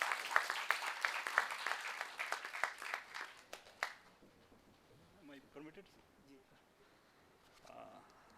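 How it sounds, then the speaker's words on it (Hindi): An audience claps at a cyber crime seminar by Delhi Police for a sub-inspector about to recite a poem, a burst of applause that fades out after a few seconds, followed by quieter room sound and faint talk. "जोरदार तालियां साइबर क्राइम पर।"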